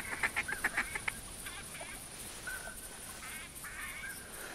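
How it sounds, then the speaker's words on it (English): Ducks quacking in the hunting game theHunter, a short burst of several rapid calls at the start followed by scattered fainter calls over a steady background ambience, with no talking. "Got 2 ducks coming in"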